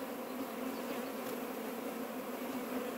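Honey bees hum around a wooden stump hive close to a house, a soft, steady buzzing drone that holds throughout at low volume.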